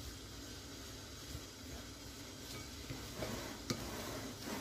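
Baking powder being stirred into dough for tuna, onion and cheese pastries by hand or with a utensil, giving a steady soft scraping and rustling texture with a few faint clicks, close and low, no talking.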